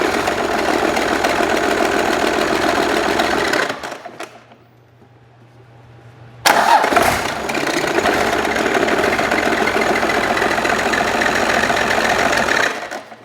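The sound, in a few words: Cummins diesel engine firing in 1967 Ford F-250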